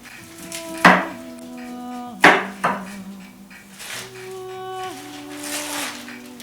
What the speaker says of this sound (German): Mit einem scharfen Messer werden die gewaschenen Wurzeln in dünne Scheiben und Stücke geschnitten.